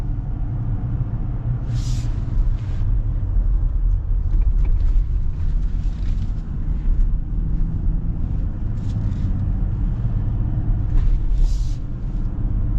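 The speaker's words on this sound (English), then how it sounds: "It's fun though, driving around a manual pickup truck." A Jeep Gladiator Rubicon manual pickup truck drives along with a steady low engine drone and road rumble, occasional faint hisses and rattles, heard from inside the cab.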